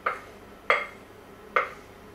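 Three sharp clinks of utensils against a bowl while dry ingredients are mixed into a butter, sugar and egg mixture for chocolate chip cookies, evenly spaced and fairly close in a quiet kitchen.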